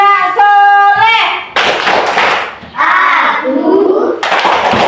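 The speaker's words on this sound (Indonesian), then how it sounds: "Tepuk anak soleh" At an elementary school, SDN 09 Lanai Sinuangon, a group of children chants the Tepuk anak soleh while clapping in rhythm. Sharp, close hand claps alternate with their voices.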